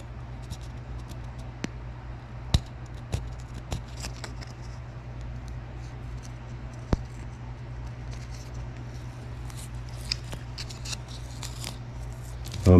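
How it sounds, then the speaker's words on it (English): Masking tape is handled and pressed onto a Hasegawa 1/72 scale F-14A Tomcat model kit, heard as quiet, scattered crackles and small sharp ticks over a low steady room hum, with no talking. "Put some masking tape underneath to keep the underside from catching paint"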